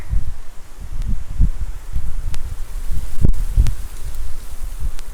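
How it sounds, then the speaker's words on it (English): Gusty wind blowing outdoors roars steadily as low buffeting rumble against the microphone for the whole stretch, with occasional soft rustles and thumps mixed in, no talking. "This wind is ridiculous today."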